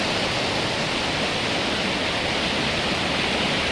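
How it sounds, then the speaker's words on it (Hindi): The swollen Ramganga river near Gairsain in Uttarakhand rushes fast during the monsoon, producing a dense, unbroken roar of churning water that stays loud and even from start to finish. "नदी का पानी कैसे बिल्कुल बहुत तेज बहाव है।"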